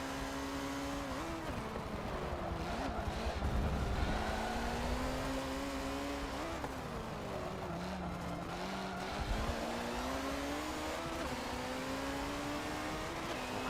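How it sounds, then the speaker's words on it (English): A Ford GT40 race car engine in Forza Motorsport 7 howls continuously at high revs, its pitch rising and dipping through gear changes and corners, loud and steady throughout. "Look at that GT40 go."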